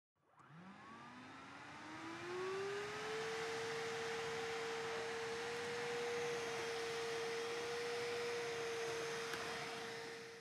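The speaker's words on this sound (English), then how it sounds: "The Samsung POWERbot is a vacuum with 10 times the suction of the competitor." A Samsung POWERbot robot vacuum cleaner starts up with a rising whine that settles into a steady, loud motor hum over broadband suction hiss, continuous and alone for about ten seconds.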